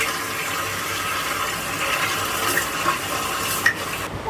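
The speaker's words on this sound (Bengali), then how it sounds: "একটু ঠান্ডা গরম জল মিশিয়ে স্নান করছি" Running water splashes steadily for a bath as hot and cold water are mixed, a continuous broadband wash with a few small splashes and no talk.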